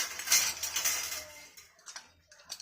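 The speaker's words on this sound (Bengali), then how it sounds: "সব কিছু দিয়ে আমি এটাকে একটা ঢাকনা দিয়ে চাপা দিলাম।" A lid is set onto a cooking pot of salted food, giving a bright metallic clink and rattle up close, then a few lighter scrapes and taps as it settles.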